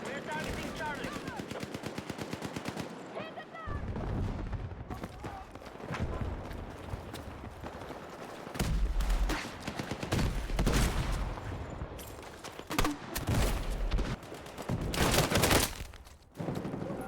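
Gunfire from an incendiary shotgun in Battlefield 4 multiplayer, with loud repeated blasts and heavy bursts of combat noise continuing throughout, layered over dense in-game action.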